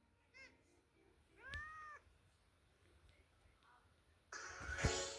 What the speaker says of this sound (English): A fucking cat.